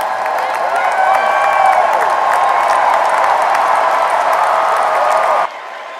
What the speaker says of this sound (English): the extent to which this crowd is loud right now